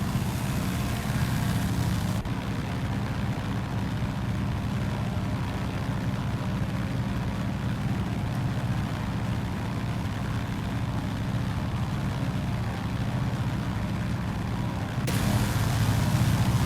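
A de Havilland DHC-2 Beaver, a Thranda-modified backcountry floatplane, runs its engine with a steady, loud low drone throughout, a slightly brighter roar at the start and end, and no talk.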